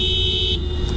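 A Bajaj Pulsar 150 motorcycle horn sounds a short, bright, steady tone over an idling engine rumble, cutting off after about half a second.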